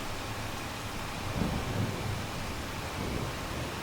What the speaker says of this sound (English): The rain is not helping though.